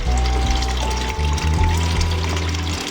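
Water pours steadily into an aquaponics tank holding Japanese koi, a loud, continuous rushing gush close by with a low churning undertone and no talk.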